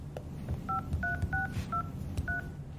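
A phone keypad gives out about seven quick, evenly spaced dialing tones against a faint low background hum.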